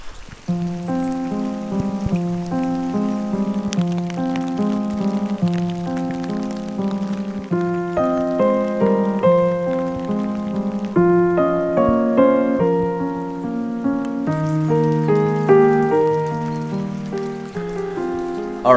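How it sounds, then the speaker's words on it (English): Heavy rain pours down on a cattle farm during a mild winter, a steady patter on surfaces heard up close, with a tonal hum running beneath it. "Pouring rain out here."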